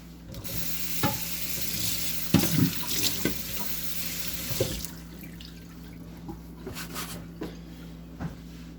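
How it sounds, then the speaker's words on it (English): A cutting board is rinsed under a running kitchen tap while making minestrone soup. Water streams steadily, with splashes and knocks of the board against the sink. "I'm going to rinse off my board."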